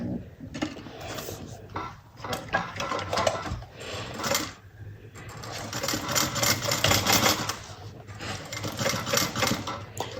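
Sewing machine back stitching along the seam of a bucket bag, a loud continuous mechanical whir with brief pauses and changes in pace as the stitching reverses and runs on.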